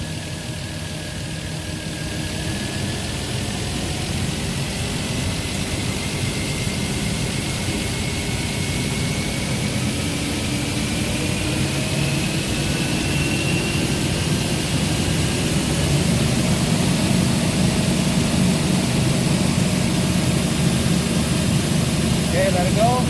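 A heavy Nissan TB45 diesel engine with severe low power drones loudly and continuously, its pitch creeping gradually higher as it revs up.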